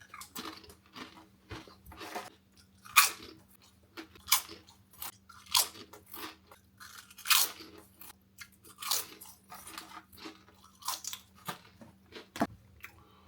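Cheesy crisps crunched and chewed close up, a string of sharp bites and crackling munches at an uneven rhythm with quiet gaps between, and no talk.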